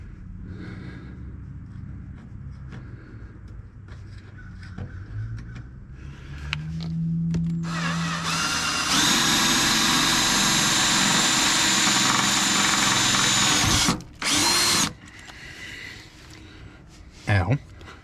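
A power drill bores into metal while working on a Glampster camper, flinging hot shavings. A loud, steady whine with a gritty edge runs for several seconds, then cuts out sharply. Speech comes before and after it.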